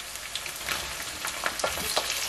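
Tomatoes frying in a pan for thakkali biryani, giving a steady, loud sizzle close by with occasional stirring scrapes and pops, no voices.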